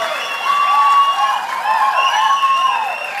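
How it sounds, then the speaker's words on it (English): At the Big Wave Challenge Awards, a surf industry ceremony, an audience applauds and cheers loudly, with whistles and whoops riding over a sustained wash of clapping. "can we give a round of applause for Bill?"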